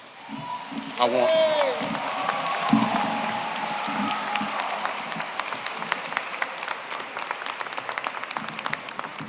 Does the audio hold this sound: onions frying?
no